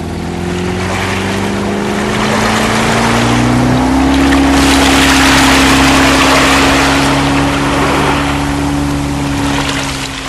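Motorboat engine drones loud and close on open water, a steady rising hum with rushing spray and wind, continuous for about ten seconds with no talk.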